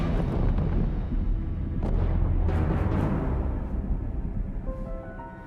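A dense, continuous barrage of booming blasts and rumbling detonations, loud and sustained, with sharper cracks standing out and faint tonal sounds near the end.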